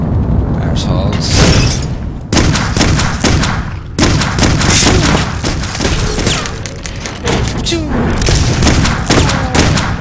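Rapid gunfire and heavy thuds from enemies shooting one another in the video game Clive Barker's Undying, loud and continuous with brief gaps between bursts.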